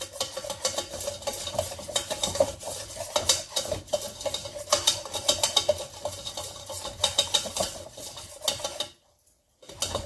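Spices for enchilada sauce cooking in a pan, a close continuous sizzle with steady stirring scrapes and utensil clinks against the pan, briefly cutting to silence near the end.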